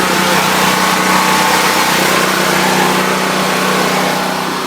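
Predator standby generator engine running steadily at a constant speed, a loud continuous buzzing drone close by with no change in pitch.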